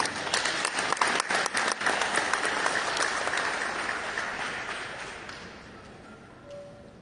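An audience at a ministry reception for a traditional art collection claps loudly, a dense burst of applause that gradually thins and fades toward the end.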